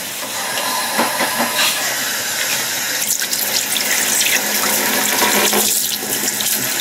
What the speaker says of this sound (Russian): Самое время помыть котел.